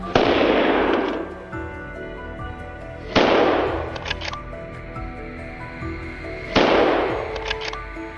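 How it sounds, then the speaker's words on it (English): Gunshots on a wild boar hunt in thick woodland: three loud, sharp bangs about three seconds apart, each trailing off in a rolling echo. "A sharp gunshot rang out, and the beast collapsed instantly,"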